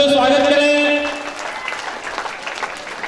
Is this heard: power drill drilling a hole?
no